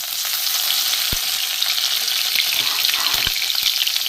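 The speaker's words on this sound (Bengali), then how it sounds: "আমি সর্ষের তেল দিয়েছি, সর্ষের তেলও গরম হয়ে গেছে। এখানে আমি 5 ফোড়ন দিয়ে দেবো।" Panch phoron spices fry in hot mustard oil in a heated pan, giving a loud, steady sizzle with a couple of sharp clicks as the spices are stirred, and no voices.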